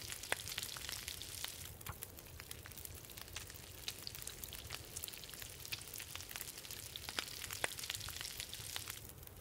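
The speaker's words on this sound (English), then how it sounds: "Cook the rabbit as well." Rabbit meat cooks in the survival game The Long Dark with a soft, continuous sizzle full of tiny crackling pops, steady and fairly quiet, with no voices.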